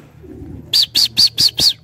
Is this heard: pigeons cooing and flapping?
yes